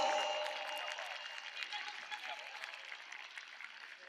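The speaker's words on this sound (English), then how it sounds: "Please give a huge round of applause for Blue House." Applause from an audience at a school annual sports meet, a steady wash of clapping that fades slightly after a louder start, with a faint voice over it.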